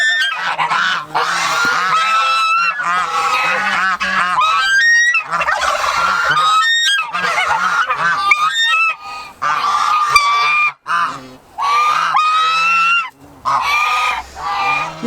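A goose in a farm pen honks loudly and nearly without pause, close by, giving harsh repeated calls with other fowl calling in the mix.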